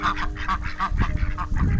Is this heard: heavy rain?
no